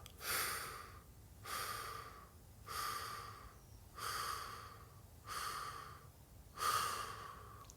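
Slow breaths during a breathing exercise, six soft airy exhalations in an even rhythm about every second and a quarter, close and quiet, with stillness between them and no talk.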